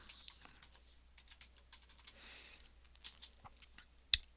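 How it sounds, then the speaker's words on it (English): Someone types a Linux command on a computer keyboard, with soft, quiet key clicks in an uneven rhythm and a sharper keystroke near the end, no voices. "So if we do sudo add user Fred, it's going to prompt us for our password."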